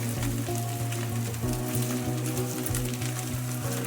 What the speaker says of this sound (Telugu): కొత్తిమీరని బాగా వేయించుకున్నాం.